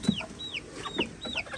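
A black hen clucks close by in short repeated calls, with chicken-like cries at a steady pace, and no talk over it.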